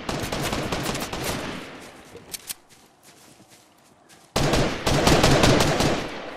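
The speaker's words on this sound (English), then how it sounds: "God, those guns are loud as shit." Loud automatic gunfire in the video game Fortnite. Dense bursts of rapid shots fill the start and end, and a quieter stretch in the middle holds a few isolated pops.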